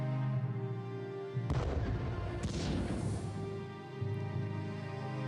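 Bombing attack in the World War I strategy game Strategic Command, heard as a sudden rumbling blast with crackling, artillery-like booms that swell and fade over a steady game music bed, with no speech.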